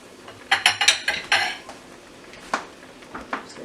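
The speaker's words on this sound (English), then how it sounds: "So take a potato masher" A metal potato masher mashes cranberries in a pot with a quick run of sharp metallic clanks against the pot, then a pause, then a few more scattered knocks, close and fairly loud.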